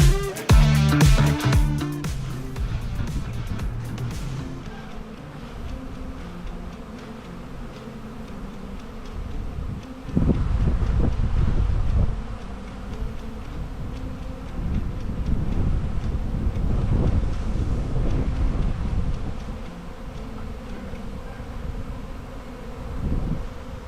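Honey bees buzzing around beehives on a North Carolina farm near harvesting equipment, a steady dense hum with wind rumble and bursts of louder activity, no talking.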